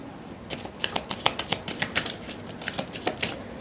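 Tarot cards being shuffled by hand, a run of quick crisp riffling flicks in an uneven rhythm, close and fairly quiet with no talking.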